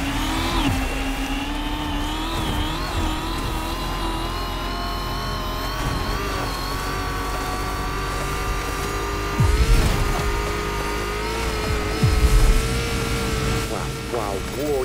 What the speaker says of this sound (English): You're driving an actual concept car.